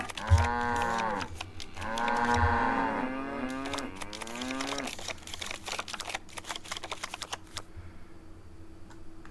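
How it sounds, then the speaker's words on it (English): Cows in the video game Nancy Drew: The Captive Curse give two long, clear moos in succession, followed by rapid keyboard typing clicks continuing alone to the end. "Move my cows."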